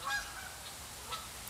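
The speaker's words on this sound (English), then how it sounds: "So this is Canadian geese is what we're hearing." Canada geese honk faintly in the distance on a cool fall day in Michigan, a couple of brief calls over steady outdoor hiss.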